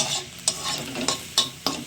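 Maggi noodles sizzle and fry in a pan at home, a steady hiss broken by four sharp scraping strokes of a spatula stirring, close and clear with no talking.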